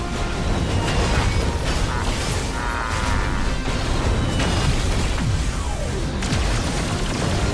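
Mortar blasts and battle noise in Final Fantasy XVI, a loud, dense, continuous roar of booms and crashes with a few whistling sweeps.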